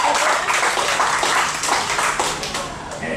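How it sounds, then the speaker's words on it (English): Scattered clapping rises from an audience at a live country music performance on a cruise ship, a brief, fairly loud patter of hands with a little overlapping voice. "Give her a round of applause because she's singing real,"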